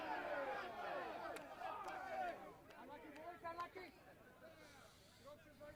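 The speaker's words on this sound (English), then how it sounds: "Harbour crowd weren't too happy with that" A rugby crowd at a Dunedin club premier quarter final between Dunedin and Harbour reacts with murmuring and jeers after a knock-on call, heard under a commentator's continuous talk.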